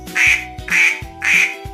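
A person imitates a duck, giving three loud, nasal quacks in an even rhythm, close up with nothing else heard.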